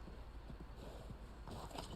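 Horse hooves clip-clop in the Western video game Red Dead Online, a quiet rapid rhythmic patter of hoofbeats over a low steady rumble, faint and distant in the mix.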